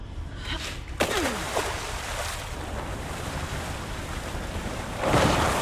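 Ocean water and surf wash loudly and continuously in the video game Alan Wake 2, a dense roar with gusty wind-like noise. A splashing swell comes near the start and a surge rises near the end.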